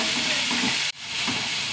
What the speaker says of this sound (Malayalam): രണ്ട് കറിവേപ്പില, ഉള്ളിയൊന്ന് വാടി വെക്കാൻ.